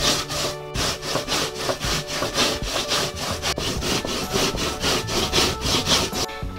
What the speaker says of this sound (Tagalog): Ganyan lang po kadali ang pag-shred or kayod ng ating kamote.